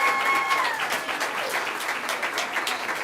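An audience claps warmly after a student concert at a school board meeting, a continuous wash of applause at moderate level that holds steady throughout.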